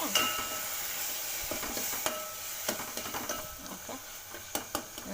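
Tomatoes soften in a hot pan for a simple tomato saru, a steady sizzle of frying under repeated scraping stirs of a spoon against the pan, close and moderately loud, with no voices.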